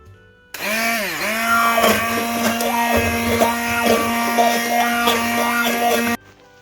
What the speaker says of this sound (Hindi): मैं पतीले के अंदर ही इसको ग्राइंड कर लूँगी